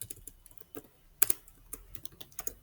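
Close, irregular clicking of keys being typed on a computer keyboard while entering a new Power BI measure, with uneven taps and one sharper key strike, heard alone in a quiet room.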